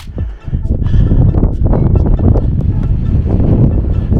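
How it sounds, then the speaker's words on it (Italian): Strong, gusty mountain wind buffets the microphone on an alpine pass trail, a loud continuous roar with low rumbling swells throughout. "C'è un vento allucinante"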